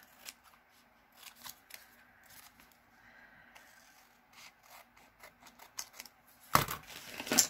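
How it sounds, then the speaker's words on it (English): Scissors snip paper pieces for a junk journal, giving a series of faint, close crisp cuts and paper rustles, ending in a louder burst of handling noise. "Let's cut these off."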